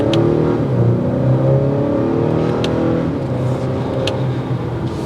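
A 2022 Acura RDX sport SUV pulls away from a standstill on a road, its engine note climbing steadily and loud and close throughout, with a continuous rising drone and faint wind noise.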